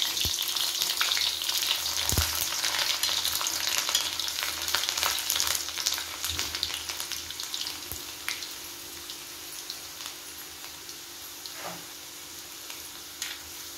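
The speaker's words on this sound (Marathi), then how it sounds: "आता यामध्ये आपण लसूण टाकणार आहोत आणि त्यानंतर लालसर होईपर्यंत त्या फ्राय करून घ्यायच्या" Garlic frying in hot oil in a pan for a prawn masala, a steady, close crackling sizzle with occasional pops and light stirring, fading slightly toward the end.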